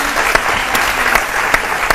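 An audience gives loud, steady applause, with sharper individual claps popping out at irregular intervals over the sustained crowd noise.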